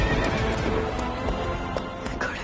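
A horse whinnies loudly close by while its hooves clip-clop on the ground, the neigh rising and falling over a steady patter of hoofbeats.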